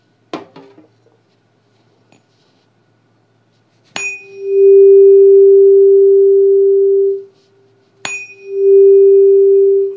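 In an air column resonance experiment, a struck tuning fork clangs sharply, then a loud, pure steady hum swells and holds for a few seconds; the strike and hum repeat a second time, with no voices.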